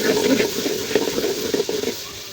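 Garlic, cumin and ginger paste frying with onions in a pan for khichuri: a close, steady sizzle with soft stirring scrapes.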